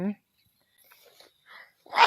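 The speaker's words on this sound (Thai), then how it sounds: "ขอโทษด้วยเอไอจาม" A single person sneezes close by near the end, a sharp burst after a stretch of near silence with faint scattered sounds; a voice talks briefly at the very start.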